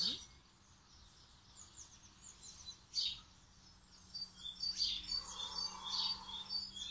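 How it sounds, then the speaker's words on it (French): Small birds sing outdoors on a morning, with faint chirps and short trills scattered over a quiet background that grow busier toward the end. "Je ne sais pas si vous entendez dans la vidéo les petits oiseaux"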